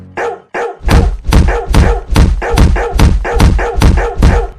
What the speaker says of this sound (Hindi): हट कुत्ते, हट।